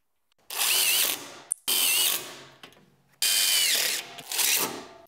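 Power drill driving screws into the top cleat of an outdoor stair stringer for a patio or balcony railing, three loud close whirring bursts with short pauses between.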